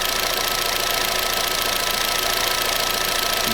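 A car engine idles steadily with a repetitive knocking noise throughout, loud and close, with no talk over it.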